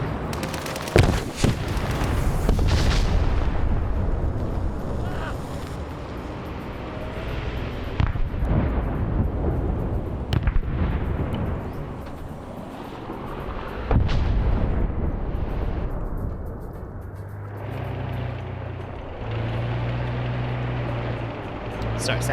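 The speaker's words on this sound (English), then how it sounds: "And they're calling danger close artillery." Danger close artillery fire in the Vietnam War game Arma SOG Prairie Fire, heavy booms and rumbling blasts rolling through a convoy battle, some sharp and close, with voices talking over the barrage.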